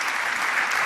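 Audience applause at an annual investment strategy conference, a dense, even wash of many hands clapping at once, loud and continuous for a brief moment with no voices over it.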